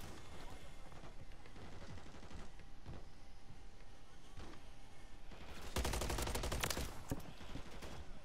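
Gunfire in Call of Duty Modern Warfare 3 Zombies: a steady stream of distant shots runs under the game ambience, then a loud, dense burst of rapid fire breaks out for about a second before fading back to scattered shots.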